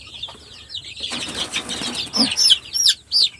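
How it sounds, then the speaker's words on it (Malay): Female birds give short, high chirps alongside a burst of wing flapping, with faint clucking nearby. "Betina ni dia bunyi cik-cik-cik sikit."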